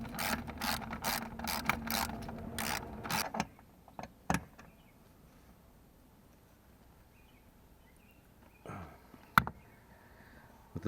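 Ratchet tightening bolts while installing a Smooth Moves Ultra seat base, a quick run of close clicking strokes that stops, followed by a few isolated metallic clicks and knocks in quiet.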